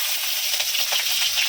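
Green chilies frying in a wok during village-style home cooking, giving a steady, close, crackling sizzle with small popping bursts throughout and no voices.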